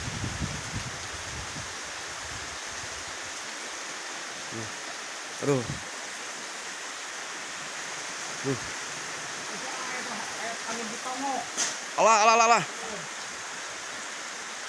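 Heavy rain driven by strong wind makes a steady, dense wash of noise throughout, with short exclaimed voices breaking in now and then over the downpour.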